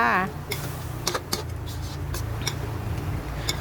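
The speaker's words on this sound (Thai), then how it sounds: "แล้วก็ผัดเลยจ้า" Fish curry with young chilies, kaffir lime leaves, culantro and herbs is stir-fried in a pan: a spatula clicks and taps against the metal over a steady frying hiss, after a brief voice at the start.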